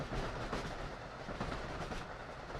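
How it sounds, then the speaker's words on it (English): An Amtrak 170 train runs in a train simulator video game, giving a steady rumbling roll with faint rhythmic clickety-clack from the wheels. It sounds continuous and fairly quiet, with no talking. "You'll be taking control of an Amtrak 170"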